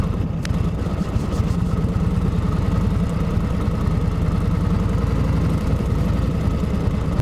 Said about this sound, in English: Nothing more exciting than somebody's first ride on a Harley Davidson knucklehead.